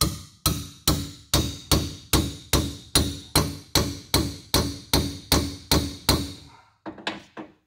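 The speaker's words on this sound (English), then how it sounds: "So I'll get them in a ways and then I'll drive them the rest of the way." Steady hammer blows driving valve guides into a 1957 Chevy 283 small block cylinder head, about fourteen evenly spaced sharp metallic strikes, close and loud, then a few lighter taps at the end.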